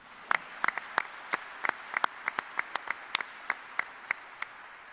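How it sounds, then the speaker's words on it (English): Sparse, distinct claps from a small audience at a press conference introducing a college basketball coach, each clap sharp and separate, at a moderate distance in a quiet room. "We can clap for her, too."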